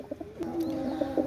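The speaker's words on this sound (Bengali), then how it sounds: "পাকিস্তানি লাল পায়রি কবুতর।" A Pakistani red pigeon coos close by in soft, low, throaty pulses, several short calls rolling together over about a second.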